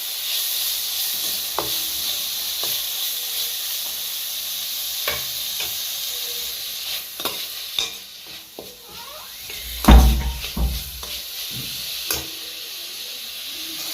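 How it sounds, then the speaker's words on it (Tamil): Tomatoes sizzle and hiss in hot oil as they sauté for a Chettinad chicken gravy, a steady close frying crackle with occasional stirring scrapes and a louder clatter near the end, no talking. "தக்காளி எடுத்து போட்டுடலாம். நல்லா வதங்கட்டும்."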